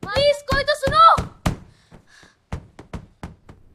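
Voices are heard first, then a string of quick, hollow thuds from knuckles rapping on a door, coming in short irregular bursts near the end.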